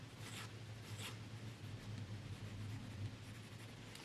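A fountain pen nib glides across paper with Monteverde ink, a soft continuous scratch close to the ear, with a couple of faint brief strokes standing out over a low hum.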